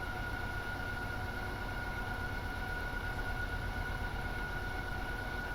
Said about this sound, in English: Man, that wind is howling tonight.